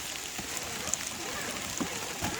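Steady rain falling during an RC crawler trail run with Axial trucks, a dense even hiss of drops on surfaces with a few louder close taps, continuous throughout.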